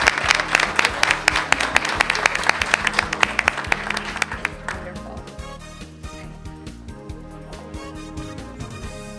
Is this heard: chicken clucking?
no